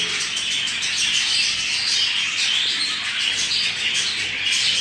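Young budgerigar chicks, including a crested jumbo type, chirp and twitter in a continuous dense chorus from a cage, steady and fairly close with no talking.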